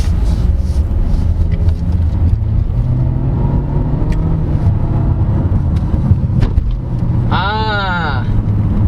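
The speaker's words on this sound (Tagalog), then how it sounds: "So here, bumpy road mode test." A 2023 Honda HR-V V Turbo crossover drives over a bumpy road with a steady low road and engine rumble from inside the cabin. A person talks over it, and a short tonal chirp rises near the end.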